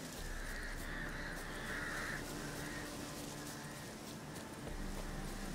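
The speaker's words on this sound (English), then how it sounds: "Crows serve Leshens." Crows caw near a Leshen totem in The Witcher 3 game, a few faint, hoarse calls over a quiet ambient background.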